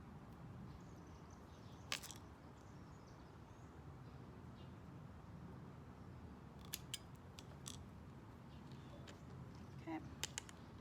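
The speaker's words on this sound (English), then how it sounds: "just snip off the extra white." Scissors snip off extra white tape while a tumbler turner is built, producing faint, crisp cuts, one early and then a quick cluster of several, over a steady low background hum.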